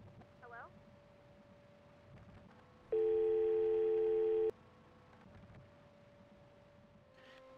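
A telephone tone sounds as a steady, loud electronic beep lasting about a second and a half, standing out clearly above a quiet room with faint background murmur before and after.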